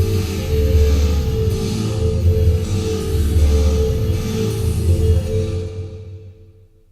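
Airwindows Feedforward reverb with damping at 0.5 on a sustained tonal source, a loud dense wash that holds steady, then decays into a fading tail at the end.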